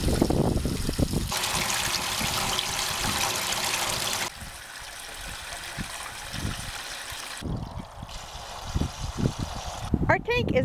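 Water rushes steadily from a PE pipe line into a livestock tank fed through a float valve, the air-filled line sputtering before a sustained flow, with people talking nearby.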